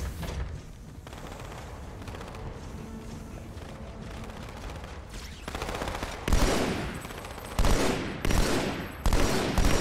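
Battle rifle gunfire from a Halo game comes in rapid bursts through ongoing combat noise, with loud, close volleys and booming impacts crowding the final few seconds.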